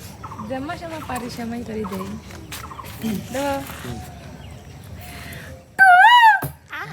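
Muffled chatter fills the background, then a person gives one loud, warbling birdlike call near the end, imitating a koel.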